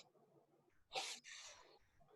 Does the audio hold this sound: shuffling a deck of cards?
no